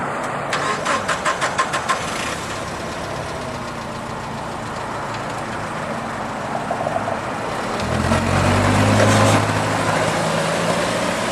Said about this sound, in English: Here we have a 2010 CAT C6000 forklift.